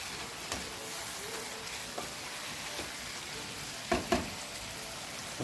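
Chicken afritada with carrots and potatoes being stirred in a pan, a steady soft sizzle with occasional spoon scrapes and clinks, quiet and close, no talking.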